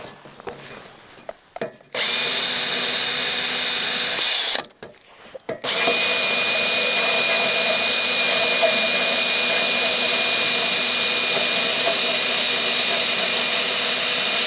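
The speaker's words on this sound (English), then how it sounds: "what I'm doing is trying to clean off the powder coating around where the bolts come through" A power tool whines loudly and steadily as it cleans powder coating from around bolt holes during a 1968 Regal rebuild, with two long bursts separated by a short pause.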